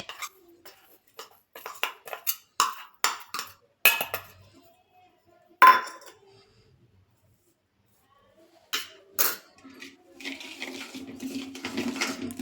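A spoon clinks and scrapes against a bowl as date pickle is mixed with pickle masala, in short irregular bursts with a pause partway through, then softer stirring.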